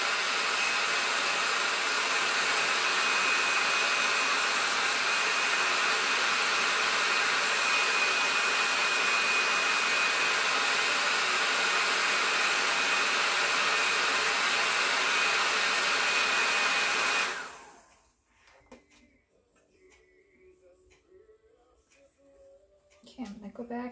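A hair dryer blows steadily and loudly at close range to dry paint on a dish towel, its constant whoosh running for about seventeen seconds before cutting off abruptly into near quiet.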